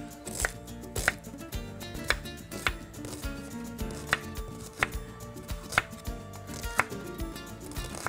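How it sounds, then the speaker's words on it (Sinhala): A knife chops an onion on a board with steady, close, crisp strikes about once a second, each knock distinct against a faint background hum. "අපි ලුණු ගෙඩිය අරගෙන කපා ගන්න ඕනේ."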